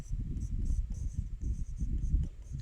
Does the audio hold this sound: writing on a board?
yes